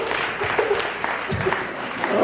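A church congregation in Jamaica applauds with steady, dense clapping from many hands that carries on without a break.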